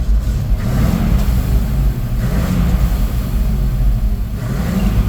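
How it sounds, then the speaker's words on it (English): The engine of a 1985 Ford F700 dump truck, parked and locked in gear, revs steadily with a loud, close, continuous rumbling drone that swells slightly and holds, with no one speaking. "Let me rev up the engine so you can hear it"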